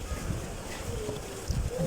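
Soft, low pigeon coos repeat close by over a murmuring background, with no talking.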